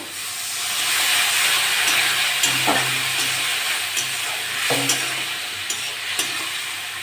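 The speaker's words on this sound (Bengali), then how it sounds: "মশলাটা কষে নেওয়ার জন্য সামনে একটু জল দিয়ে দেবো" Spice paste fries and gets stirred in a pan with a splash of water for a pangas fish and potato curry, producing a loud, steady hissing sizzle with occasional soft scrapes and taps of the spoon, close up and without speech.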